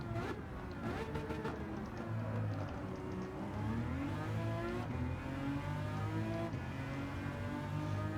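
A LaFerrari races at full throttle in the Gran Turismo 7 video game, on the Sardegna Road A circuit, its engine note revving and shifting continuously with rising and falling pitch, loud and steady throughout.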